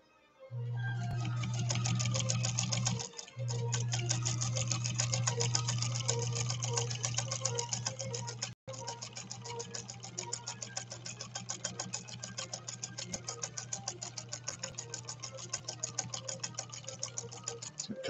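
A 1957 Japanese Fleetwood Model 492-TW sewing machine stitches steadily with a fast, even mechanical rattle and a low motor hum, with one short pause near the start and a brief stop midway, close and with no voices.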